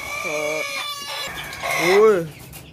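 A hen clucks and squawks nearby in a short, uneven series around laying her first egg, one call rising into a longer drawn-out cackle before trailing off.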